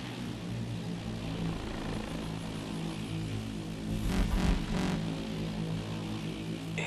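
An enemy drone in Call of Duty: Advanced Warfare hovers overhead with a steady, droning propeller hum, loud and continuous, briefly swelling as it passes closer.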